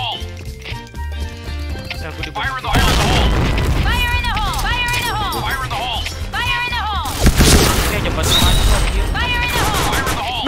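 Bomb explosions in a first-person shooter game crash out as two loud, heavy blasts, the second several seconds after the first, over continuous game music and effects, with voices of players chatting.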